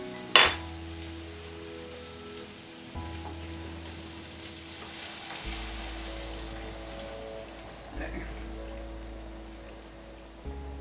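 A sharp clatter opens, then a steady crackling sizzle of liquid poured into a hot frying pan for vegan paella continues throughout, with low hum underneath.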